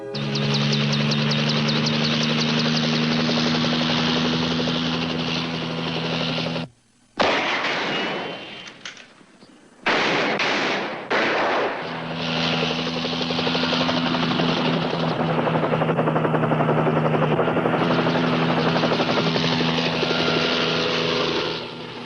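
A helicopter's rotor drones and thumps steadily, loud and near, cutting out briefly midway amid scattered sharp bangs before the rotor noise returns.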